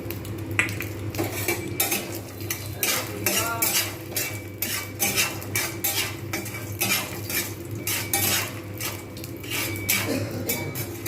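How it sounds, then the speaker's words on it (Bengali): Chillies and peanuts frying in a pan, with loud, repeated metal spatula scrapes and clinks stirring over a constant sizzle, close and busy throughout. "লঙ্কা আর বাদামটা আমি এখন ভেজে নেবো"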